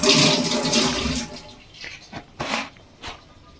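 Tap water splashes and runs while fish is washed with lemon and salt in a kitchen, a loud gush at first that eases into intermittent pours and drips.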